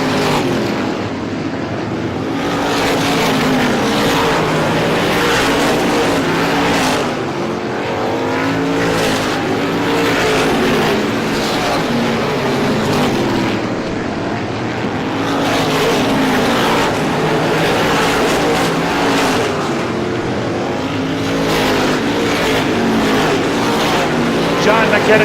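Loud, continuous roar of race cars lapping Star Speedway during the ISMA Classic 150, engines swelling and fading as packs pass in repeated waves, with an announcer's voice over the din.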